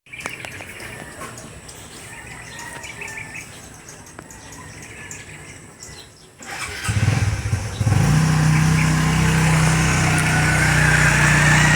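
A motorcycle engine cranks and catches, then idles steadily and loudly, with birds chirping faintly in the background.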